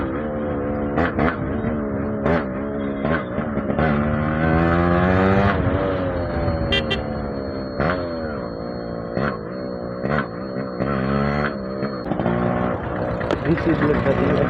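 Yamaha RX100 and Rajdoot motorcycles in a street race setting, engines revving loudly with rising and falling throttle sweeps and sharp blips, continuous and close, while a voice talks over the engine noise.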